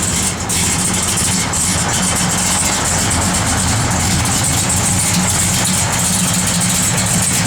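A 1967 Dodge Coronet R/T with a pump-gas engine idles steadily and loud, its deep rumble constant and close throughout with no talk.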